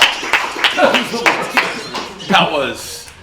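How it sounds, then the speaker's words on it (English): A few scattered hand claps ring out amid chatter and background voices, uneven and moderately loud rather than sustained applause. "Thanks for clapping over there"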